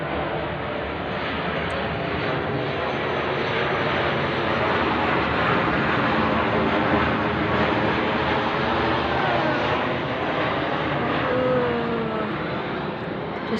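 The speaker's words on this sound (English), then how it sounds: "see how the controlling plane is going over my head." A small plane drones overhead at night, a steady, even engine hum that fills the whole stretch without breaks.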